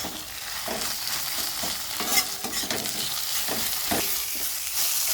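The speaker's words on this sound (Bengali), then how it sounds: "এইবার মশলাটা আমি ভালো করে কষে নেব" A spice paste with cumin powder and salt fries in a pan while being stirred, producing continuous close sizzling with repeated scraping strokes throughout.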